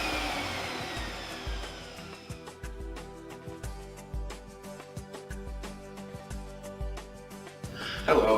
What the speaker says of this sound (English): go ahead and put your wand into the back, and it's going to dry out the hose